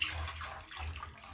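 Water pours into a cooking pot (sufuria) on a Kenyan kitchen stove, a steady close splashing rush lasting just over a second with a slight dip midway.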